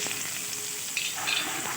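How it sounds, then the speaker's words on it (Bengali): Chopped onion sizzles in leftover fish-frying oil tempered with nigella seeds. A dense, steady hiss runs close by, with faint crackles and a light stir, and no one speaks. "এরপরে এই মাছ ভাজা তেলের মধ্যে দিয়ে দিচ্ছি একটু কালো জিরে ফোড়ন ফোড়নটা হলে আমি দিয়ে দেবো একটু কুচিয়ে রাখা পেঁয়াজ"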